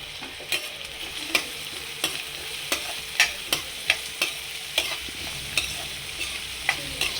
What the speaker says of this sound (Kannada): ಈಗ ಫ್ರೈ ಮಾಡಬೇಕು